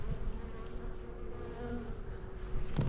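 Honeybees buzzing at an active hive, a steady close hum of many wings droning continuously with faint rustling near the end.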